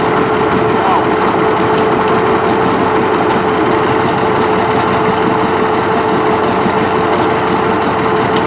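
A Case 1150 dozer engine runs loud and constant as the machine is put in gear, a steady rough drone with an even vibrating texture throughout.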